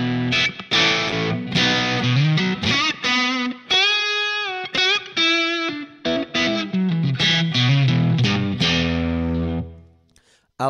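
Electric guitar played through a Line 6 Pod HD500 modelling a bright Marshall JTM-45 amp with sag set to 100%, giving a crunchy, overdriven tone of strummed chords and single notes, loud and continuous, with no talking.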